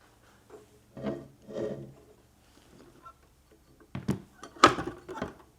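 An old Thorens TD165 turntable squeaks and rubs as it is started, a few short scraping bursts separated by pauses, close and fairly quiet.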